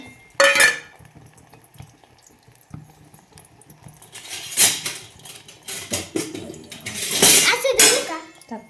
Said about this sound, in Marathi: हे असं आपल्याला पूर्ण हलवून घ्यायचं